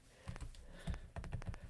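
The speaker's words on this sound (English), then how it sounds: "it feels so weird typing on that old rubber keyboard" Typing on a ZX Spectrum rubber keyboard, soft dull key taps close by in short irregular bursts, several quick presses clustered near the end, with no talk.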